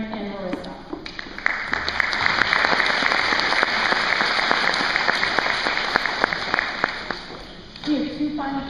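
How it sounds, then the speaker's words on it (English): Sustained audience applause at a school Veterans Day celebration, a dense crowd of clapping that swells quickly, holds steady for several seconds and then fades, with brief speech from the presenter at the start and end. "if you could have another round of applause for Patrick,"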